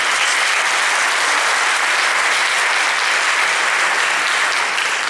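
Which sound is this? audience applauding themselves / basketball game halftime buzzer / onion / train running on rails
audience applauding themselves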